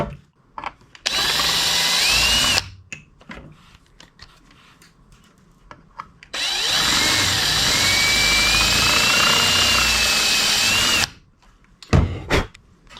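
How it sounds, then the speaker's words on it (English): A power drill whines in two long bursts, drilling out rivets on a Honda ATC 200X, the second about five seconds, separated by quieter handling noise and a few short clunks. "I think I'm going to have to drill these out and make my own mounts"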